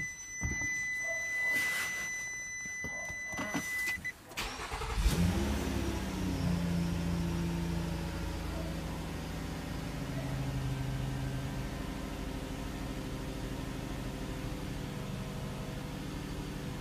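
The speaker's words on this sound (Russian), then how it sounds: "Вот она завелась, обороты повышенные, как на прогреве, 1500." A Nissan Murano Z51 engine starts after throttle body cleaning with a burst of cranking, then settles into a steady raised idle at about 1500 rpm, like a warm-up, with a close, even hum that continues to the end.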